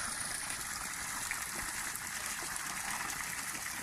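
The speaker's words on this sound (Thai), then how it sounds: "ปล่อยน้ำเข้าบ่อนะคะ" Solar-pumped well water flows steadily and evenly into a pond, a continuous rushing gush with no talking, moderately close.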